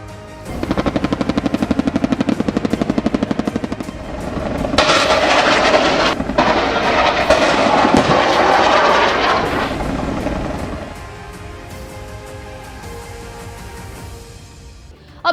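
A Z-10ME attack helicopter flies nearby with a loud, rapid rotor chop and a strong engine roar. The sound swells midway and then fades to a quieter drone toward the end.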